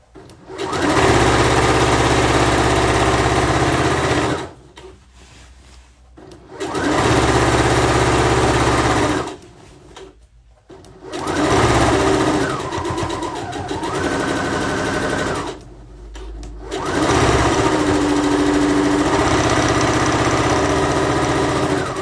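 Close and loud, a sewing machine stitches a pillowcase in four long runs of steady whirring, each broken by a short silent pause.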